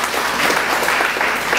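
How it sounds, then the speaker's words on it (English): A church congregation claps in praise, a dense burst of steady applause filling the room. "Let's give the Lord a clap of praise."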